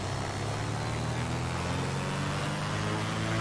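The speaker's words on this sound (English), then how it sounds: "we'll just give the engine a little run up" Britten-Norman Trislander engine run-up in Microsoft Flight Simulator, a steady even engine drone with a low hum and broad hiss, constant and moderately loud, with no talking.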